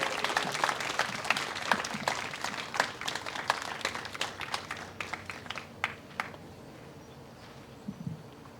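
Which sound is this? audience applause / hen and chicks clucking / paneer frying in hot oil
audience applause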